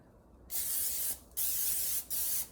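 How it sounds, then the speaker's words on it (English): Three short bursts of aerosol olive oil cooking spray, each a steady hiss lasting about half a second, with brief pauses between them, close and clear. "I'm gonna put a little bit extra olive oil spray on there"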